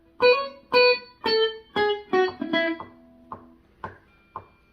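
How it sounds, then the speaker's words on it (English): A guitar picks out the vocal melody of a song as a short run of clear single notes, the first few ringing strongly and the last few quieter and clipped, played alone. "The vocal melody is basically, it sounds like this"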